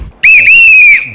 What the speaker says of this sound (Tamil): ஏய் யாரா விசில் அடிக்கிறது?